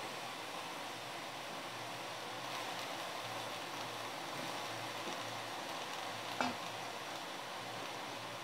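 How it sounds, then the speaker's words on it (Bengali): Bottle gourd leaves are stirred in a hot pan for a poppy seed curry, giving a soft, steady sizzle and rustling hiss throughout, with one brief louder scrape of the utensil near the end. "পাতাগুলো দিয়ে কিছুটা নাড়তে চাড়তে হবে"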